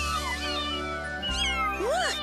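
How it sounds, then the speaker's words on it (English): Several small, high-pitched kitten meows from cartoon kittens overlap in quick succession, close and clear over a steady low background hum. "Look, kittens!"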